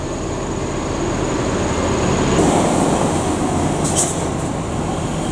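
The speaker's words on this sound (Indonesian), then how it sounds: "Dan ini melintas ada Epastar ya yang menuju Terminal Bare Solo." An Epastar train bound for Solo's Bare terminal passes near Muaro Takung, a loud continuous rumbling roar of rolling wheels and engine close by, with a brief high screech near the end.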